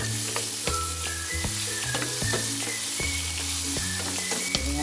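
Tomatoes and pepper sizzle loudly and continuously in a frying pan, close by, with repeated stirring scrapes and knocks against the pan running through the sound.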